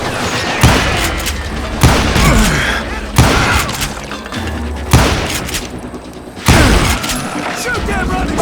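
Gunfire rings out in the Western video game Call of Juarez: Gunslinger. Five loud, close shots crack at intervals of about a second and a half, each followed by a ringing tail, with voices and combat noise in between.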